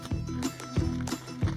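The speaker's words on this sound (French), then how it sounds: "arrive à la ferme avec son cheval, Granny." Horse hooves at an Amish farm, a steady clip-clop of three or four close, regular strikes over a faint background hum.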